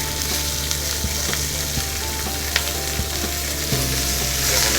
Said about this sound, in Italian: li lasciamo proprio così a sfrigolare